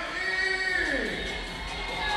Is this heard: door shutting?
no